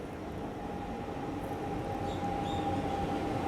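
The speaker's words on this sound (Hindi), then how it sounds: "ये आ गई सिकंदराबाद यानी कि हैदराबाद से शालीमार को आने वाली एक्सप्रेस ट्रेन" A Secunderabad-to-Shalimar express train hauled by a WAP-7 electric locomotive rolls past in a steady, sustained rumble with a thin ringing metallic whine running through it, close and even in loudness.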